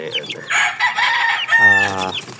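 Chickens cluck in short bursts, then a rooster lets out a loud, drawn-out crow close by.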